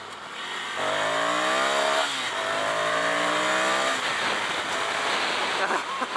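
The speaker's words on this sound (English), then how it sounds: "I hit the rev limiter." A 2018 Ducati Scrambler Cafe Racer engine revs hard up to the rev limiter, its loud climbing whine rising, dipping and rising again before bouncing off the limiter, heard close and continuous on the ride.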